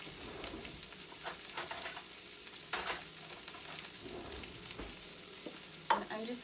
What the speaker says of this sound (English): I'm just going to mix this a little bit